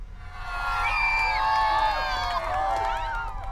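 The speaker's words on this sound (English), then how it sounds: "Well, that's a cheering section right there." Students cheering to welcome classmates on the first day of school at Lava Ridge Intermediate School in Santa Clara, a lively chorus of high children's shouts and whoops rising and holding, close and energetic.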